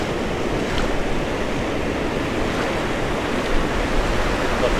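Sea waves wash onto a beach in Spain in a steady, loud roar of surf mixed with wind buffeting the microphone, with no talk.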